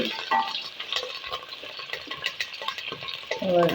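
Chopped garlic stirred and sautéed in a pan for chicken noodles, giving a steady close sizzle with frequent spoon scrapes and light clinks against the pan throughout.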